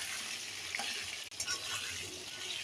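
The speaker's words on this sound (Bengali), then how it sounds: "নাড়াচাড়া করে ঢেলে দিলাম তেলে। আলুটা ভেজে নেবো লাল করে।" Potatoes fry in hot oil seasoned with dried chilli, bay leaf and white cumin, a faint steady sizzle with light stirring scrapes and one brief dip in the middle.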